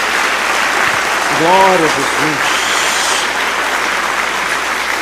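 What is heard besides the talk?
audience applause in church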